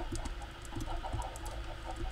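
Chickens in a Minecraft server game clucking in a pen, several short, repeated clucks in irregular rhythm, moderately close and clear with no talk.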